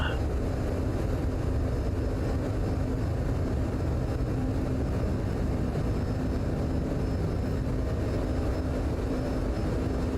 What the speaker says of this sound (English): Now, can I take off from here? Not really on the runway